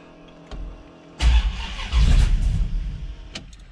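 A Plymouth Barracuda engine cranks briefly after a faint click, then catches and fires up, settling into a rough, loud idle with a few surges before easing down; nearby and alone.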